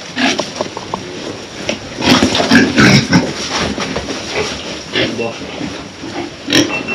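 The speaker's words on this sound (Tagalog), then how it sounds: "Ito yung mga baboy ni Kuya oh" Farm pigs grunt and snort in bursts at close range, mixed with rustling and movement noise while people talk nearby.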